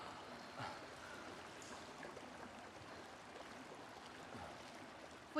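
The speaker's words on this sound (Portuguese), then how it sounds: "O rio deve ter transbordado." Overflowing river water rushes steadily and continuously, a dense broadband wash close by, with no voices over it.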